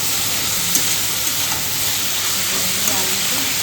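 Pointed gourd and potato slices frying with onion in a pan, giving a steady, even sizzle that runs without a break, close by and moderately loud, with no talking over it.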